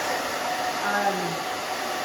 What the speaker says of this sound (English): you can move the blow dryer